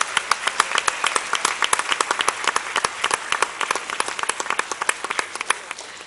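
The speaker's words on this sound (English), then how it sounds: "So join me for another round of applause for this amazing accomplishment." A round of applause fills a school board meeting honoring student achievement: crisp, individually distinct claps from a modest crowd, steady and fairly close, with no talking.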